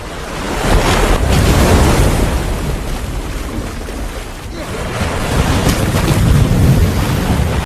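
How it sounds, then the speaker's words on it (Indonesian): Heavy ocean waves and stormy wind pound a small rubber boat at sea, a loud, continuous roar of surf and gusts with broadband wash that swells and eases slightly, no voices. "sayangnya ombak dan badai terus menghantam perahunya"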